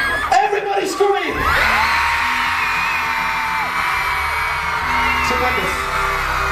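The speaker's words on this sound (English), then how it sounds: "Everybody scream!" A dense, loud wall of screaming from a huge audience at a concert in Dubai rises after a couple of short shouted calls and holds steady for several seconds, with whoops and yells throughout.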